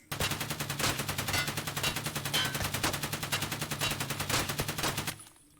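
Sustained automatic gunfire from a video game gun, a rapid, steady stream of loud, evenly spaced shots lasting about five seconds before cutting off abruptly.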